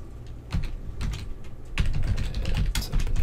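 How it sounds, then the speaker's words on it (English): A password typed on a computer keyboard, with quick clusters of key clicks that speed up and grow louder partway through. "type in the password"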